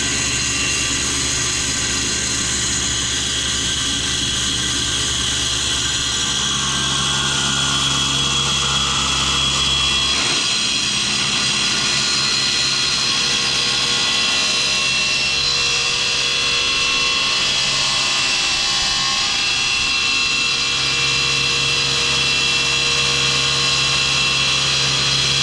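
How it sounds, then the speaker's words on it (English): A loud, steady high-pitched power saw whine runs continuously as it rips a length of PVC pipe, with a low motor hum fading partway through and the pitch shifting slightly as it cuts. "take this piece of 5-foot PVC, rip it on the saw now"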